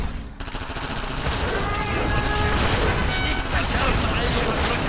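Continuous gunfire and explosions from a Command and Conquer Generals Zero Hour battle, a dense loud barrage with bursts overlapping throughout, with a voice talking over it.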